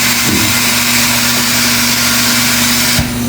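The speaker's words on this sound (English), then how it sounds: "by hitting these buttons here, we're going to control those rollers going up and down and in and out" The motorized rollers of an R1250 Fusion tire changer machine move with a steady, loud mechanical hum and whir. The sound is close, continuous and unbroken, ending in a brief low thump.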